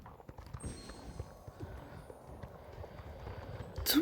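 Horses walk with steady, close clip-clopping hooves, an even rhythmic pattern of hoof strikes throughout, with faint background sounds.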